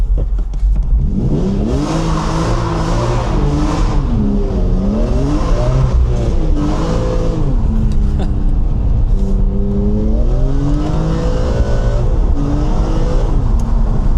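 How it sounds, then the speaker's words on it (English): BMW E36 328i driving with a slipping clutch, in Mexico, its engine droning and revving steadily with rising and falling pitch throughout, loud and close, with a voice speaking over it. "I think my clutch is slipping, which is not good"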